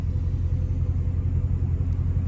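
A Dodge Charger Scat Pack engine rumbles in traffic as a deep, steady, close low-frequency growl with no speech over it.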